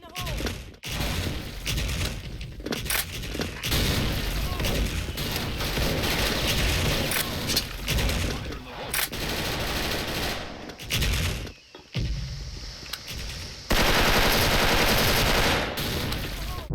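M4A1 assault rifle gunfire in the Special Force online shooter, loud rapid bursts and sustained automatic volleys with brief pauses, some heavier booms mixed in, dense and close throughout.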